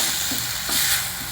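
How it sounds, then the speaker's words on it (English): Turmeric, pink salt and Kashmiri chili powder stirred into hot oil in a pan, giving a steady loud sizzle with scraping stir strokes, close and without speech. "so that these spices also get cooked in this oil"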